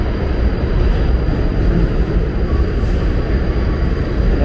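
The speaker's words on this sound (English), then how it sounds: "F train going now." A constant loud roar and rumble of an F subway train running past at Coney Island's Stillwell Avenue station, Brooklyn, steady throughout with no pauses.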